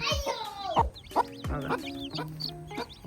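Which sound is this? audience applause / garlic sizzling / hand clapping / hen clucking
hen clucking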